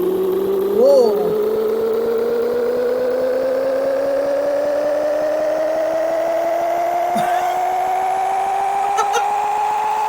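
Truck engine in the PC racing game Big Rigs: Over the Road Racing, a steady synthetic drone whose pitch climbs smoothly and continuously as it accelerates, with a few faint clicks over it.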